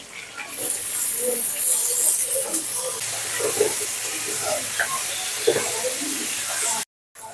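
Sliced onions tossed onto salted fried potatoes in hot oil set off a steady, close hiss and sizzle that runs unbroken for several seconds before cutting out briefly at the end.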